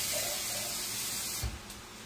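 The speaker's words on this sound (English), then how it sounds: "We add a little water." Water running into a tomato can and splashing into a pot of homemade chili, a soft steady faucet-like rush with a brief low thump near the end, no talking.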